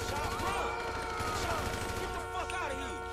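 AK rifle fire in GTA V, with steady bursts of shots running under ongoing game noise and tonal music, the whole mix loud and fairly even.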